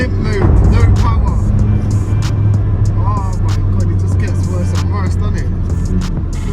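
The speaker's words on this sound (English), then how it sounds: "Guys, the car's gone into limp mode, no power." A Vauxhall Corsa VXR in limp mode with no power gives a low, steady engine drone from inside the cabin, with no revving surge. A voice talks over it throughout.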